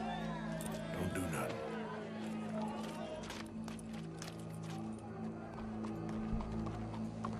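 Horse hooves clip-clopping in the Western video game Red Dead Redemption, a steady trotting rhythm under a droning music bed and ambient game sound, with voices and crowd murmur mixed in.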